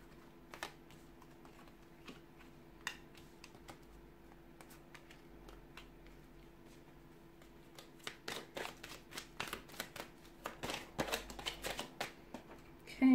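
Tarot cards are handled and shuffled during a reading, soft scattered flicks and taps at first, then a quicker run of crisp card riffles and snaps near the end over a faint steady hum.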